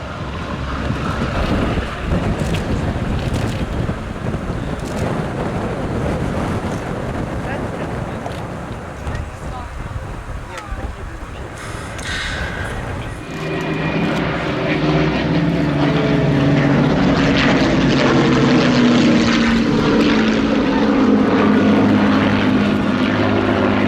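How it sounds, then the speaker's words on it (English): The Boeing B-17G Flying Fortress Sally B, a four-engine propeller bomber, flies at the Duxford air festival, a loud, broad engine drone that swells and grows richer partway through, with wind buffeting the microphone. "Into the air, the great Duxford favourite, resident and flying here now for 42 wonderful years, Boeing B-17G Flying Fortress Sally B"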